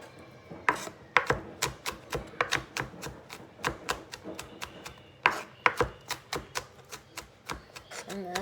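A knife finely chops chicken on a cutting board, steady sharp thuds in quick rhythm, close and clear, continuing throughout.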